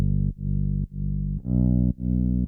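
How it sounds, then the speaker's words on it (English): Synth bass sidechained with Kickstart 2 pumps in a steady rhythm, each held note ducking to near silence at regular intervals, loud and alone with no talking. "I'm using Kickstart 2 just to make it have this pumping effect."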